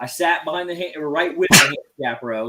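A single sharp, loud sneeze bursts out close by in the middle of steady talking, briefly cutting across the voice before the speech carries on.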